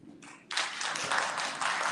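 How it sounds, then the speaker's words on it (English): Audience at a candidates forum breaks into applause, a light patter of a few claps first, then a full, dense burst of clapping that holds steady to the end. "Let's give them a round of applause"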